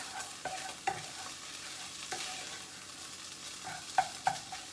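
Chopped scallions fry quietly in a pan while being stirred, a soft steady sizzle broken by several sharp scrapes and knocks of the utensil against the pan.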